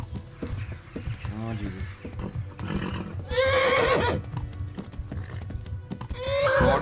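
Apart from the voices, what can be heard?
horse neighing and hooves in video game Kingdom Come: Deliverance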